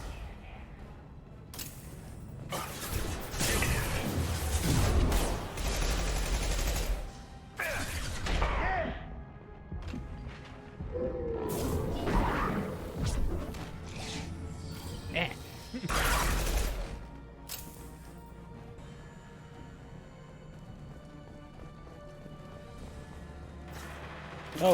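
Mass Effect 2 combat gunfire, bursts of loud shots and impacts clustering in several heavy volleys with quieter stretches between, with people talking over parts of it.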